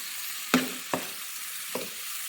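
Tomatoes and tuna cooking in a pan, with a steady broadband sizzle throughout and three short knocks of a utensil against the pan, the first loudest; no one talks.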